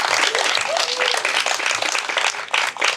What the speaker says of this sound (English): let's give Karla another round of applause for being a good sport.